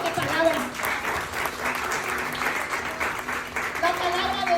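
A church congregation gives the Lord a strong round of applause, with loud, continuous clapping for several seconds and a few voices mixed in.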